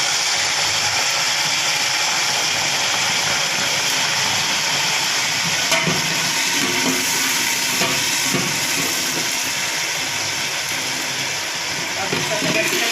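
Water poured into browned onions in a hot pot while cooking Kabuli pulao sets off a loud, steady sizzling hiss that fills the whole stretch without a break.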